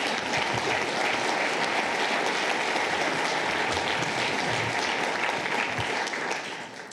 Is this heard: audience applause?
yes